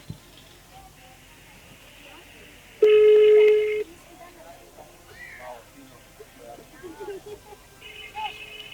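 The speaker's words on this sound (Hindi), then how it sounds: "बेल जा रही है" A phone call on speakerphone gives one loud, clear ringback tone lasting about a second, over a low background hum and recorded tone snippets, with someone talking around it.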